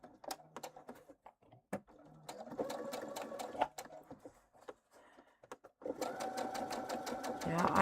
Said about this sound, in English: I'm going to back stitch really well when I get to this first mark and when I start the next one